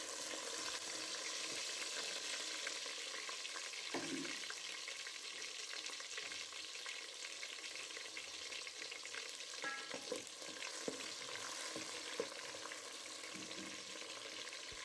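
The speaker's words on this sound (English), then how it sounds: "Let's fry it." Vegetables frying in a clay pot in an African village kitchen, a steady crackling sizzle throughout with occasional soft knocks and scrapes from stirring.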